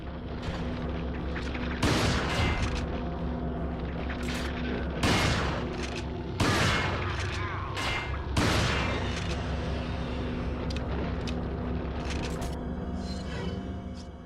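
Gunshots ring out at the shooting range in the video game Resident Evil 4, several sharp reports spaced a second or two apart over a steady mechanical hum and background game sound.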